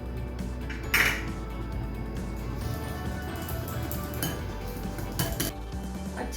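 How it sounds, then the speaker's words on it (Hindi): Jalebi batter tinted with a pinch of food colour is mixed in a bowl, with a spoon clinking and scraping against the sides in irregular taps, close and moderately quiet with no talking. "अच्छे से हमने मिक्स कर लिया है।"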